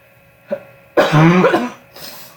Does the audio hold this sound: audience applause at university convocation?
no